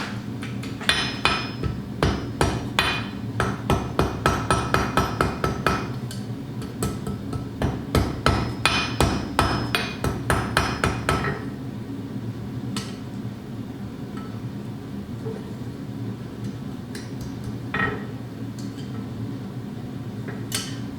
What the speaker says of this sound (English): Forging the scarves.